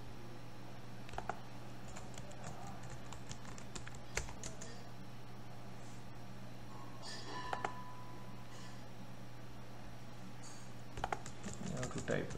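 Computer keyboard typing during a Linux command-line install, quiet and fairly steady key clicks with a few louder bursts over a constant low hum.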